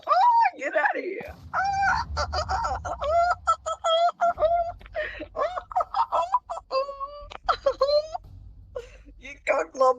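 A man vocally imitates a chicken, producing rapid, repeated clucking and squawking calls up close that fill most of the stretch with short, choppy bursts.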